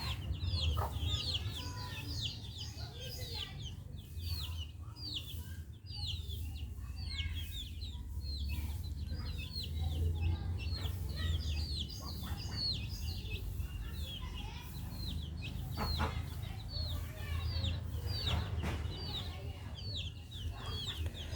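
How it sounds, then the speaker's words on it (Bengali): A hen in front of a house keeps up repeated clucking across the whole stretch, with other chicks or fowl chirping nearby over a low outdoor rumble. "মুরগিটা সারাদিন ঘরের সামনে থাকে"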